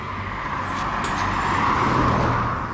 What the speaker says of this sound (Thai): เป็นขับเคลื่อนสี่ล้อ ห้าร้อยซีซีครับ เป็นออโต้ครับ เกียร์ออโต้